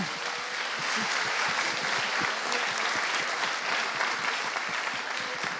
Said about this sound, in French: Je pense qu'on peut les applaudir très fort.